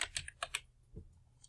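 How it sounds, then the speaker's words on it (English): Close computer keyboard typing of a name: a quick burst of several crisp key clicks, then a pause and a softer thud, with a few faint taps trailing off. "you have to type in your name"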